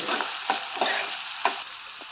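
Curry leaves frying in hot oil in a pan for brinjal gojju, a bright close sizzle punctuated by four quick stirring scrapes over about two seconds.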